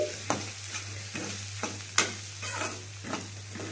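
Spoon stirring cumin powder and chili powder into samosa filling in a pan, with repeated scraping strokes and a soft sizzle of frying underneath, close and steady with no talk.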